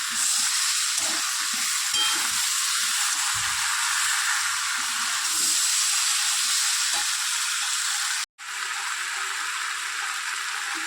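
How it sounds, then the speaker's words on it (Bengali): Mixed vegetables sautéing with spices in a pan give a continuous bright hiss and sizzle, with occasional soft stirring knocks beneath, interrupted once by a brief cut near the end. "ভালো করে এবারে আমি এটা কষিয়ে নিচ্ছি, যাতে সমস্ত সবজিগুলো মশলার সঙ্গে মাখা হয়ে যায়"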